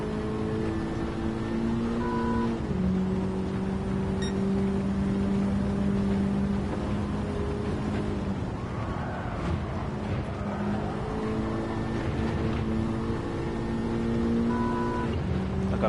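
A front-wheel drive race car engine lapping Road Atlanta in the video game Gran Turismo 7, a steady droning tone stepping up through short-shifted gears, with held notes and sudden pitch drops at each upshift, moderately loud and without talk.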